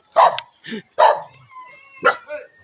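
A dog barks three times close by, sharp, loud barks spaced about a second apart, each followed by a softer yelp.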